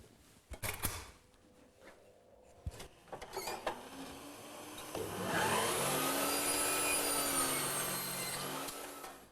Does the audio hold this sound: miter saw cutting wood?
yes